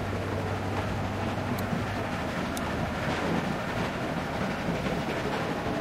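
A moving train in The Walking Dead Telltale video game makes a steady, dense rumble with broad wind-like noise. The sound holds constant throughout, with a low hum and a couple of faint high metallic ticks and no talk.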